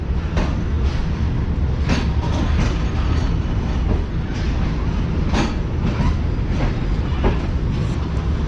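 Train pulling out of Khanewal Junction, a continuous loud rumble of wheels on rails with periodic clattering joint clicks and faint squeals, close by and steady for the whole stretch.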